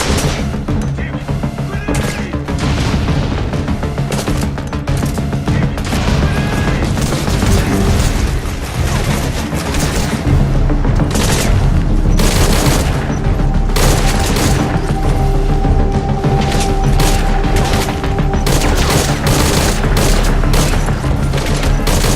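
Dense, loud gunfire and booming explosions from a Metal Gear Solid V: Ground Zeroes daytime mission, sustained volleys and bursts filling the whole stretch with barely a pause.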